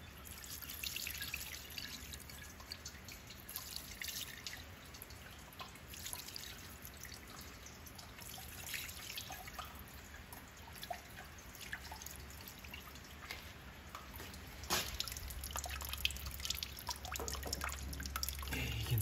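Diesel poured by hand from a tin into the tank of a Ferguson TEA20 tractor: a quiet, thin trickle and faint dripping of fuel that continues for the whole stretch, growing slightly fuller near the end.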